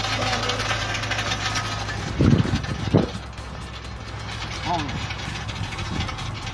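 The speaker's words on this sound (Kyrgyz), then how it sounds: "Ошо мотор ишке чорап." A car engine idles with a steady low rumble that holds through the whole stretch, while voices talk over it nearby.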